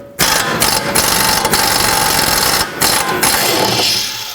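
Ratchet clicking steadily as a 21 mm bolt comes out of the lower mount of a rear shock on a 2007-2009 Saturn Aura, a close, continuous mechanical rasp with a few brief pauses.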